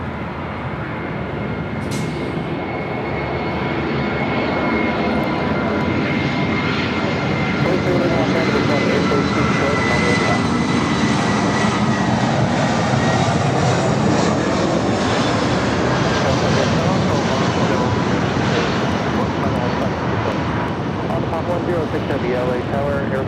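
A Lufthansa Airbus A380 jet airliner takes off at Los Angeles airport, its engines building into a loud, sustained roar with rumbling, under radio chatter from the tower.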